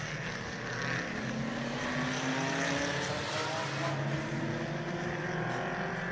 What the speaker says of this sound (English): Race cars sure are loud.